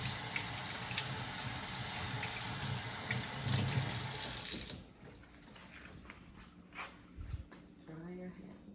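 Tap water runs steadily into a sink as hands are rinsed, a close, constant hiss for the first half that stops abruptly, leaving quieter room sounds and brief talk.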